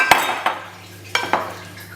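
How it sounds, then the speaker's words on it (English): Rocket salad tossed with dressing in a bowl until combined, giving several quick clinks and scrapes of utensils against the bowl, close and fairly loud, over a low steady hum. "And then you mix that till it's combined."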